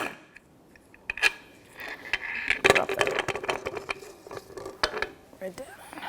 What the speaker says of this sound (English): 18mm socket, and I'm going to take the nut off